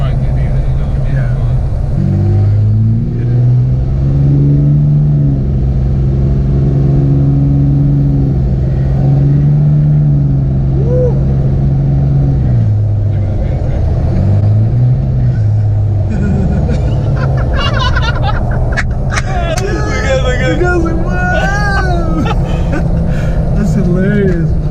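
An armoured, bullet-proof Dodge Ram 2500 pickup pulls hard from inside the cab, engine note rising in long surges and shifting between gears, a loud low rumble throughout with occupants chatting over it toward the end.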